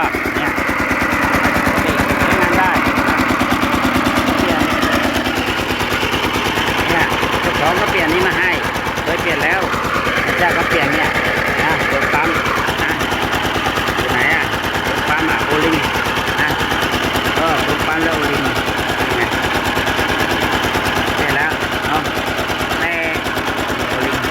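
A Kubota RT120 diesel engine with low oil pressure runs continuously nearby, a loud steady rattling chug throughout while someone talks over it.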